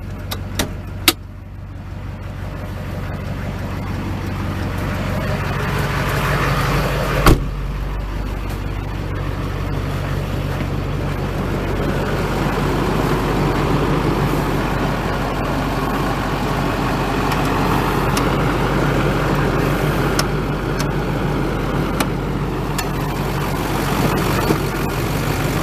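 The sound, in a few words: 2005 Chevy Silverado 2500 HD 6.6 liter Duramax turbo diesel engine idling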